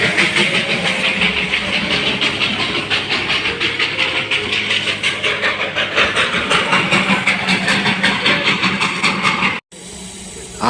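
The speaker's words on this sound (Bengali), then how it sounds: "আমরাও কয়লার ইঞ্জিন চালিত টয় ট্রেন দেখার সুযোগ পেলাম" A coal-fired steam toy train at Batasia Loop, Darjeeling, chuffs and hisses loudly and close with a steady rhythmic pulse, then cuts off abruptly near the end.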